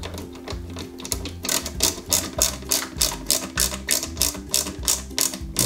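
Power screwdriver whirring in repeated short bursts as a CP screw is driven into a 1/8-scale Citroen C4 WRC 2008 model kit, steady mechanical buzzing with rhythmic pulses, close and alone.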